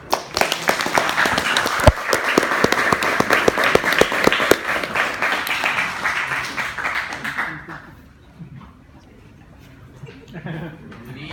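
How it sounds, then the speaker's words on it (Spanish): Conference audience claps for a speaker being introduced, dense sustained applause for about seven seconds that tapers off, followed by quiet room noise and the start of talk. "Les pido un aplauso."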